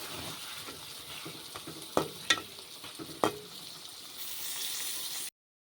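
A steady sizzle of pointed gourd frying in a pan, broken by a few sharp clinks of a utensil against the metal.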